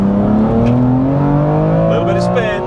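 A tuned BMW M2 Competition on a custom map, making about 467 wheel horsepower, launches hard with a little wheel spin. Its loud engine note climbs steadily as it accelerates close by.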